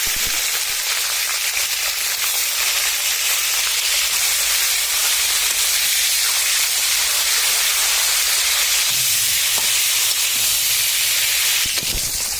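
Cauliflower pieces frying in hot oil in a home kitchen, a loud, continuous sizzling hiss that stays even throughout, close up, with a short clatter near the end.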